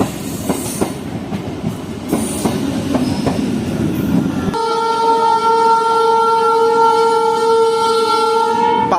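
Ganadevta Express running from Howrah to Azimganj on the adjacent line, heard from a neighbouring train: rhythmic clickety-clack of wheels, then a loud sustained horn-like tonal whine as it rushes past close by.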